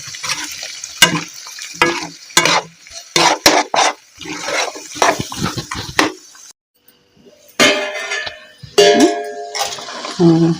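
Mutton pieces frying in oil in a pan while being stirred, giving repeated scraping clatters and a steady sizzle that pauses briefly before the stirring resumes.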